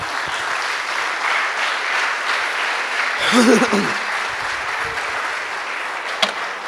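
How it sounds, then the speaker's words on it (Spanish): Applause fills a church worship service, a steady wash of clapping from the congregation that swells briefly in the middle, with voices mixed in underneath. "Dile un aplauso al Señor."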